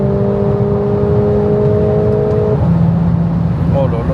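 A car is driven flat out in S+ mode in Kabylie, Algeria, its engine drone rising steadily under a loud, constant rush of wind and road noise heard from inside the cabin, with a brief pop as the gear changes.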